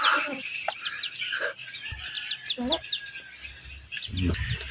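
Backyard chickens, hens and a rooster, give short clucks and calls near and farther off, with small birds chirping repeatedly in the background.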